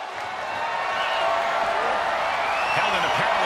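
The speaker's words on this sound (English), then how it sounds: "The roar of this crowd has been building, and they are on a fever pitch right now." A wrestling video game arena crowd roars in a dense, sustained wash of cheering that swells slightly louder over the few seconds, with faint whistles rising through it.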